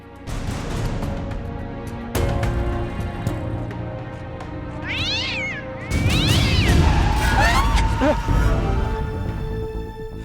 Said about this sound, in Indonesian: Tadi ada kucing, Pak.